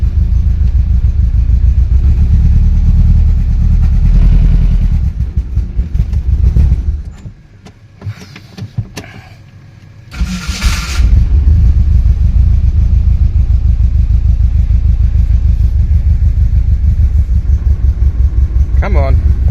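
The engine of a Hillman Imp car cranks and catches on choke, then settles into a close, loud, uneven idle with a deep rumble. It dips briefly in the middle and then picks up again, while people talk over it.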